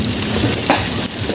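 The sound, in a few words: tofu frying in a pan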